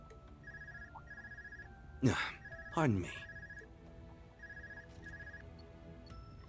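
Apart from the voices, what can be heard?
flip phone ringing in the video game Trails of Cold Steel 4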